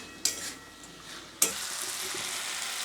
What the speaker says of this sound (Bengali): এবার এটাকে একটু ভালো করে একটু কষিয়ে নিয়ে জল দেবো।